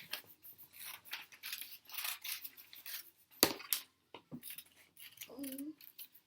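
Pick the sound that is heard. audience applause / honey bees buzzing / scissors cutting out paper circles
scissors cutting out paper circles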